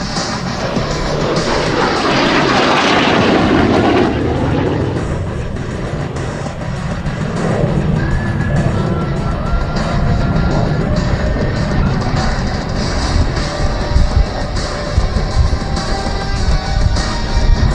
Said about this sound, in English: Here's the MiG-17.